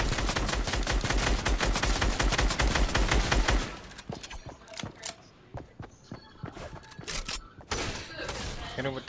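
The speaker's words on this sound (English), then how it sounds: "Hit him with the shotgun." Shotgun and rapid gunfire in the video game Fortnite, a dense burst of loud shots at first, then scattered single blasts and thuds, with players talking over it.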